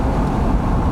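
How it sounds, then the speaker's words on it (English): A catless BMW 440i running a stage 2 MHD tune gives a brief, steady, close low engine and intake rumble while driving, with no talk over it. "I just want you guys to hear the intake real quick"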